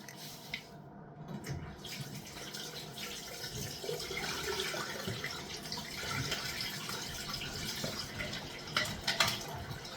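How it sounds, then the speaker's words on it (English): Hot water running steadily from a bathroom tap, a continuous splashing, gurgling wash that stays fairly close and even for the whole stretch, with no talk. "now we're getting some proper hot water out of the tap"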